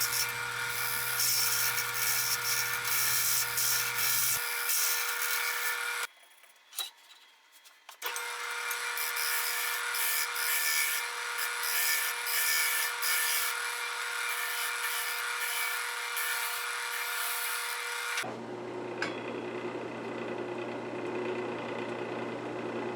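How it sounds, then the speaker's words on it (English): Continuous scraping whir of a woodturning gouge shear scraping a spinning walnut and tigerwood bowl on the lathe, steady and close, with a brief drop near the middle before the cutting resumes and then changes tone toward the end. "so I flipped it over and started shear scraping"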